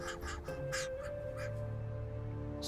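Crows at a nest give a few harsh caws over a continuous low background hum, the calls spaced irregularly across a brief stretch and heard fairly close.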